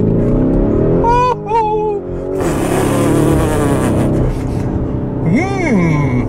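Lamborghini Urus SUV launching hard from a standstill under launch control, its engine roaring loud and close as it revs up and pulls away, with a short drop partway through and a rising whine near the end.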